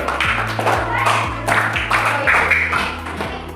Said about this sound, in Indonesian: tepuk tangan untuk kelompok anggur